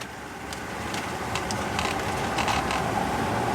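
A pre-merger AMG Mercedes with a V8 engine, abandoned for 27 years, drives for the first time, giving a steady, close mechanical rumble and drivetrain noise with light creaks and clicks throughout.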